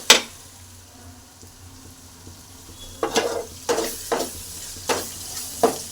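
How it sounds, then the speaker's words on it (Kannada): Egg frying with masala, salt, chilli and turmeric in a pan for egg rice, a soft sizzle broken by several scraping stirs and clinks of a spoon in the second half, close and unaccompanied by speech. "ಇವಾಗ ಫುಲ್ ಇದು ಮಿಕ್ಸ್ ಮಾಡ್ಕೋಬೇಕಾಗುತ್ತೆ ಮೊಟ್ಟೆ"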